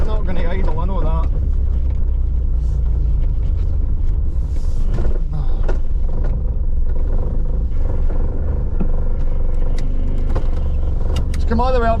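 A Vauxhall Nova with a failing engine that will not idle runs roughly on the road, a heavy low rumble with uneven revs and a faint rattle throughout, loud and close with no talk.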